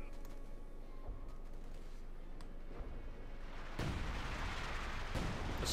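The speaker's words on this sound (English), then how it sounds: "the Americans, they're quickly calling in some artillery on the house." Artillery barrage in Company of Heroes 2, a winter battle between Wehrmacht and US forces: a steady rumble of booming impacts and crackling blasts, with a heavier, louder burst of explosions near the end.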